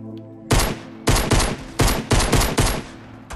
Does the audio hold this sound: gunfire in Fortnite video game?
yes